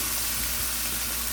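Onions and okra sauté in a hot pan, giving a brief, even sizzle with steady broadband hiss and no talking.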